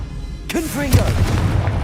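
Confringo blasting spell in Hogwarts Legacy: a sudden burst hits after a short pause, followed by a booming blast and rumbling crackle, mixed with the player's spoken incantation.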